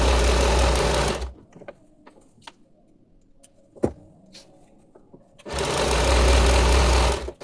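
A sewing machine stitches a salwar in a short quiet burst between louder stretches of noise, with a few scattered clicks and taps during the pause.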